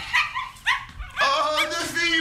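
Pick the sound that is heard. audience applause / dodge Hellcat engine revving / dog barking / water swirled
dog barking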